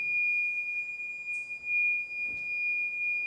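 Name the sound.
alarm going off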